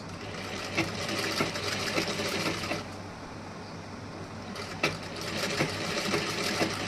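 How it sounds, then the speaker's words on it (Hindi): A sewing machine stitching the front part of a blouse runs steadily as a quiet continuous mechanical whir with a faint rhythmic ticking, briefly easing off midway before resuming. "अब इधर की साइड में यहाँ पे हमें स्टिचिंग लगानी है।"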